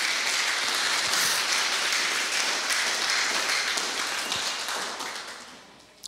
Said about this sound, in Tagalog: yung pinakamalakas na palakpak mo